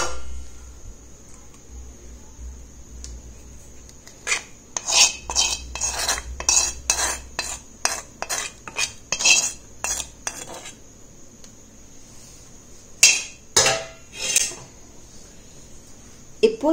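Hibiscus-leaf hair dye paste being scraped and transferred into a vessel, with a run of sharp metallic clinks and scrapes of a utensil against the container, loud and close, separated by short pauses.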